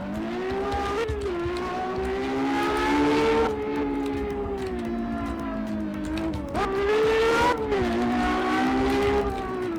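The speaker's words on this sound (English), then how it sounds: "This is not the best sounding car, but just listen to this Ferrari." A Ferrari engine in a Roblox racing game revs hard and continuously, its pitch rising and falling with gear changes and brief dips in the throttle. No one speaks over it.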